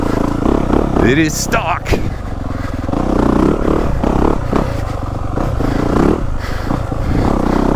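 A stock dirt bike engine revs and pulls through a slippery, drizzly woods loop, with up-close throttle surges and chassis clatter while the rider talks over it.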